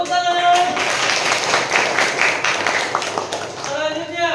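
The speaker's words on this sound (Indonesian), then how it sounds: "Tepuk tangan." Pupils in a classroom clap together in a brief burst of applause, a dense patter of many hands, while a teacher's voice speaks over it at the start and end.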